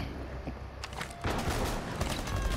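Gunfire in a multiplayer shooter video game breaks out as a burst of crackling shots, then turns into a dense, continuous fusillade that swells partway through.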